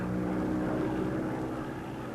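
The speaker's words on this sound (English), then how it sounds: "an Avenger, returns with a missing left wheel and makes a safe landing" A WWII Avenger propeller aircraft landing on a carrier deck with a missing left wheel, its engine giving a steady, loud droning roar with no speech over it.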